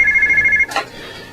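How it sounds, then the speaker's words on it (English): A telephone rings with a steady electronic double-tone trill lasting about half a second, loud and close, then cuts off abruptly with a brief rustle as it is picked up. "Hey John, can you get the phone?"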